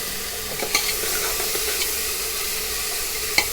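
Ginger-garlic paste frying in a pan for chicken pulao gives a steady, close sizzle, broken by a few sharp scrapes of stirring, with no talking.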